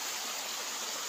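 Water rushing steadily at Ubo Falls in Masbate, a constant broad hiss of flowing water, fairly faint and with no voices over it.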